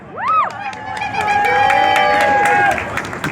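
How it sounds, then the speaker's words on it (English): A crowd at a cannabis freedom march rally in Seattle cheers loudly, with whoops and a sustained high voice rising over the noise, continuous for about three seconds before easing. "So let's hear it for John Novak."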